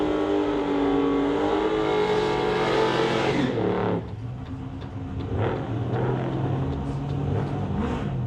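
Chevrolet drag race cars accelerating hard at a drag strip in Mission, BC, a loud sustained roar that drops sharply partway through, then continues as a rougher, lower engine rumble with bursts of revving.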